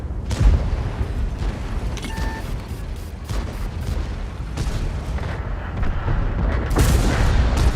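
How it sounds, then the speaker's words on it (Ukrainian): An incoming drone detonates near soldiers at the front. Heavy booms roll through a dense, rumbling din, with the biggest blasts near the start and again at the close. Further thuds and crackling fill the gaps. "Шваброчку, яка прилетіла, залетіла і бабахнула"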